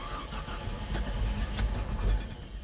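A Jeep Comanche engine cranks with a rough, uneven churning and fails to catch, heard close but fairly quiet over low rumbling noise for under three seconds.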